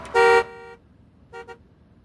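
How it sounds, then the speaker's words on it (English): A car horn blares once, loud and near, then gives two shorter, fainter toots a second later. "Don't honk! Don't honk!"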